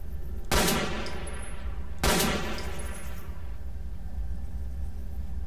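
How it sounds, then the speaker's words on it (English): Two sharp gunshot bursts from STALKER: Call of the Zone ring out about a second and a half apart, loud and close, each trailing off into a low rumbling background. "shooting randomly"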